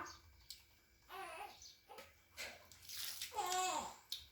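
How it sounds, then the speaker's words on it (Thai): Running water splashes in short bursts as hands are washed under a tap, fairly close, with a child's babble and other voices mixed in. "เดี๋ยวพ่อล้างมือมา"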